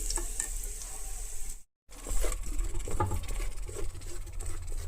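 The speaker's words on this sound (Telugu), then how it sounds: "ఒక ఐదు నిమిషాలు ఇలా ఇది గ్రీన్ కలర్ నుంచి కొంచెం లైట్ గ్రీన్గా వచ్చేంత వరకు వేయించుకుందాం" Coriander leaves fry in a pan for an old-style chutney, giving a soft steady sizzle with light stirring scrapes and a momentary dropout partway through.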